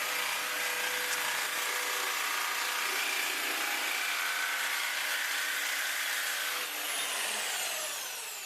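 Bosch jigsaw cutting thick aluminium, a loud steady buzzing rasp of the blade that runs continuously and tails off slightly at the end, close and without talk.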